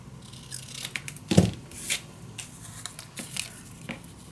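Scissors cutting paper while a mini scrapbook album is being made, with a series of close, crisp snips and rustles, one sharper cut standing out among the lighter ones.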